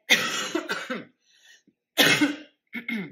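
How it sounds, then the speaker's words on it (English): Several harsh coughs in short bursts with pauses between, close to the microphone, ending with a lighter throat-clearing cough. "I'm still getting over this cough"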